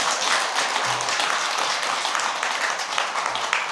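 Dense, steady applause from an audience at a Buddhist dharma lecture fills the whole stretch without a break, with no voice over it.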